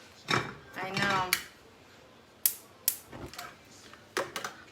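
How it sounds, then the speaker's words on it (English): A frying pan set down on a home kitchen stove while making miso curry milk ramen, a few sharp metallic clanks and knocks spaced apart, close by, with light kitchen handling noise between. "We put the frying pan on."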